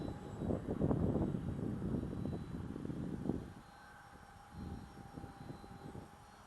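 A HobbyKing 1100mm EPP Sbach 342 RC plane running on a 1600mAh 3S battery flies overhead, its electric motor a buzzing drone that grows loud, cuts out, then returns more faintly, with light wind on the microphone.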